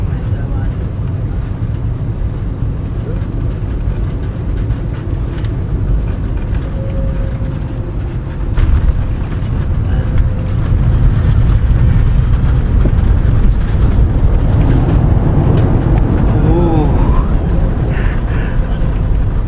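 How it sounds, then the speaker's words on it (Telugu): A passenger airliner landing at Delhi, heard from inside the cabin as a steady roar of engines and rushing air that swells louder midway as braking and reverse thrust kick in, with passengers talking throughout. "ల్యాండ్ అయినప్పుడు బ్రేక్ కొట్టేసిండు."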